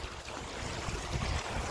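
Wind blows outdoors on a sunny day, buffeting the microphone in a continuous loud rumbling roar with no voices.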